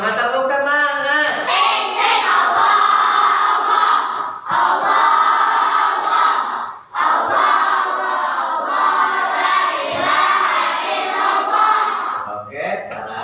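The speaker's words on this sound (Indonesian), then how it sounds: "Kalau masih semangat, tepuk semangat." A school class of children in Indonesia does a clapping chant together: loud, rhythmic voices in unison, broken into phrases with short pauses, claps mixed into the chanting.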